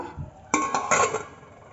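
A lid set onto a pot of stuffed brinjal curry with tamarind juice, giving a short metallic clatter and clink, then a second lighter rattle as it settles, close and clear in a quiet kitchen.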